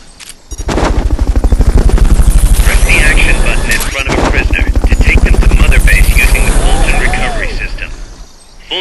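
Fulton Recovery extraction in Metal Gear Solid Peace Walker: a loud, sustained helicopter-like roar with rapid rhythmic chopping pulses and a sharp burst midway, with game voice lines heard over it.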